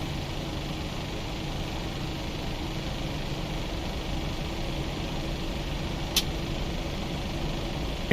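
A PMDG 737 engine spools up during a start sequence in the Prepar3D flight simulator, heard as a steady, continuous whine and hum with one brief click partway through and no talk over it.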